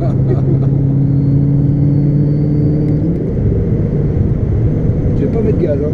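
A 2005 Ford GT engine drones from inside the car on a test drive, a steady low rumble that shifts pitch partway through as it accelerates, with people talking over it.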